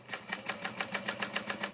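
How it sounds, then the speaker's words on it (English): A sewing machine runs while topstitching a backpack, with its bobbin stitching in a quick, even rhythm of about nine soft pulses, heard close and fairly quiet. "Is that the bobbin going?"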